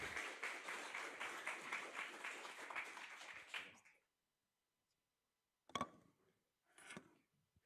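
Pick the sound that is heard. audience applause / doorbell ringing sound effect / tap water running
audience applause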